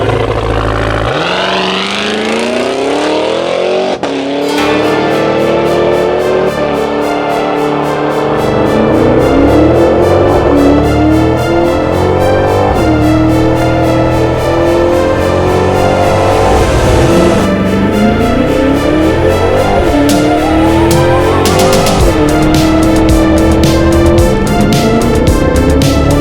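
A 2023 Cadillac Escalade-V's engine revs and accelerates through repeated rising gear sweeps on a drive, loud and continuous with no talking.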